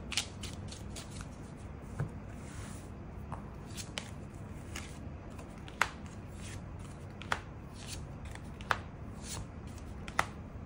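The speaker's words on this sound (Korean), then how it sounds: "추가 카드 뽑아보도록 하겠습니다" Tarot cards are shuffled and handled close up in a quiet room, with soft rustling and scattered sharp card snaps and flicks at irregular intervals.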